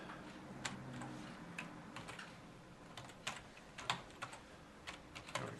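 Typing an email address on a computer keyboard, a quiet irregular run of soft key clicks and taps close by, with no talk.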